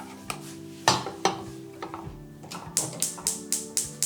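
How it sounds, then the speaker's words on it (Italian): A whisk clacks against the side of a pot of thickening cream on the heat in quick, uneven strokes, speeding into a steady rapid rhythm near the end. "Mescolo bene con una frusta"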